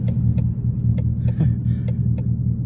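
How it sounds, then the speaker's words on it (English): A 2021 Mustang GT with a Flowmaster Outlaw exhaust and X pipe makes a deep, steady rumble while driving, low and continuous, with a few faint clicks over it. "you can legitimately feel the exhaust rumble the car"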